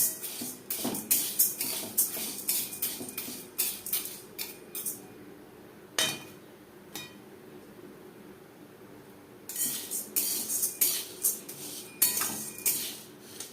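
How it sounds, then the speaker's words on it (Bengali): About 300 grams of dehusked split urad dal is dry-roasted in a pan, with bursts of scraping and metallic clinking from a stirring spoon, a quieter pause in the middle, then more rattling stirs. "সর্বপ্রথমেই ডাল আমি হালকা করে ভেজে নেব।"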